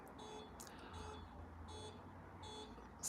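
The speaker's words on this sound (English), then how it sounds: "I don't know if y'all hear the car beeping outside." A car horn or alarm outside a window beeps in three evenly spaced bursts of high electronic tones, faint and distant behind a quiet room.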